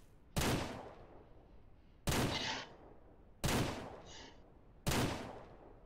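Four loud gunshots from a rifle fired at a bear while hunting in the video game Ranch Simulator, each a sharp blast with a decaying tail, spaced roughly one and a half seconds apart.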